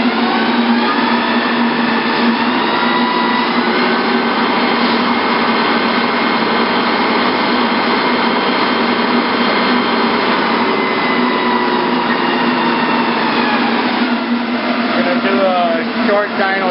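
A Goerend transmission spins up to about 2000 RPM on a dyno, producing a loud, steady mechanical whine with a constant tonal hum that holds evenly throughout, with no talking.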